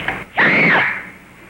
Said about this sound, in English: This is the world's championship sneezing contest